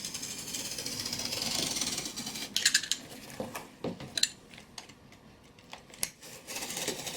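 A wooden cutting board has its two sides cut off, giving a continuous rasping, gritty cutting noise broken by sharp clicks and knocks that come close together in bursts. Nobody speaks.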